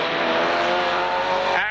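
A racing van roars past at an auto club van meeting, a loud, sustained engine howl that fades sharply at the end.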